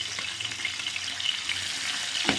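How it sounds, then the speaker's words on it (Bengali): Turmeric-coated, salted prawns fry gently in a pan, giving a steady close hiss and sizzle with light crackle throughout and a brief clatter near the end. "আমি আস্তে আস্তে করে মাছগুলোকে একটু ভেজে নিই"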